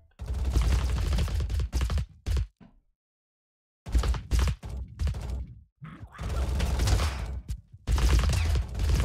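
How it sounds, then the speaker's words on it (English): Machine gunners in the battle game Totally Accurate Battle Simulator fire dense, rapid bursts that come in several loud stretches, broken by short silent gaps. "Okay, we got some machine gunners."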